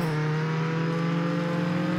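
A Mustang in the Roblox game Jailbreak holds a steady engine tone, a sustained low idle-like hum with faint revving, close and continuous without any talk.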